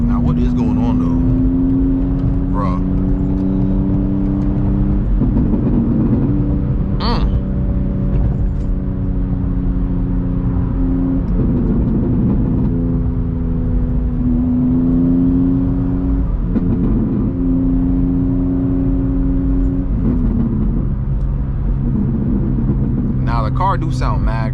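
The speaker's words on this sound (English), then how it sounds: "Now the car do sound mad crazy though." A loud BMW M2 engine rumbles and revs continuously, rising and falling in pitch as it drives through city streets, with occasional talk underneath.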